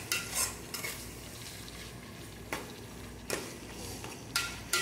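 Chicken masala being stirred in a pan, with a few scraping spoon strokes against the metal over a low steady sizzle, fairly quiet and close with no talking.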